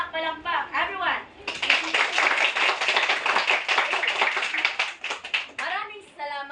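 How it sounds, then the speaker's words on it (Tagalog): A room of students claps together in a burst of several seconds, with children's voices talking before and after the applause in a classroom group activity. "bigyan natin ang ating mga sarili ng isang napakalakas na palakpak"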